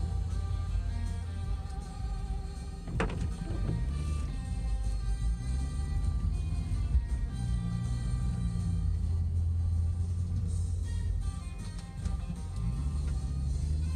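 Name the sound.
car driving from condo to the beach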